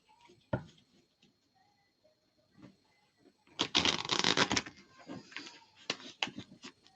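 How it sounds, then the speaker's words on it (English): Tarot cards get a quick shuffle on a table: a few faint taps at first, then a burst of rapid riffling and flicking that trails into scattered snaps, close and alone. "I'll do a quick shuffle again"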